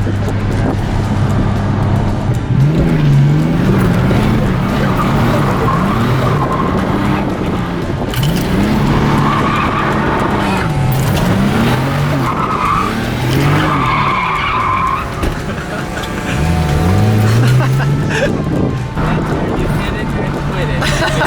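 A Nissan 240SX drifts, its engine revving and droning while tires skid and squeal in long repeated waves, loud and close, with a crowd murmuring and people talking in the background.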